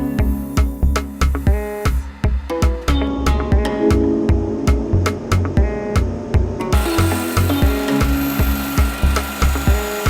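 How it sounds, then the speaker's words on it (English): Wooden timber frame posts are cut in a shop space, with a rapid, regular run of sharp strokes and knocks, loud and close, continuing steadily for about ten seconds with a brighter, noisier stretch near the end. "We're cutting the posts and then notch them to fit the walls."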